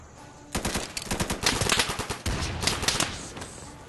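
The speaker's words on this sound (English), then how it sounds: "The sounds of gunfire are loud and heavy, bullets whizzing by your head are visceral." Machine gun fire from the video game Insurgency rattles out in loud, rapid bursts of heavy automatic shots for about three seconds, with a brief gap partway through before the firing resumes and then tapers off.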